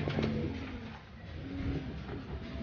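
Racing pigeons at a loft during a fun race, soft repeated throaty coos close by, with low rustling underneath.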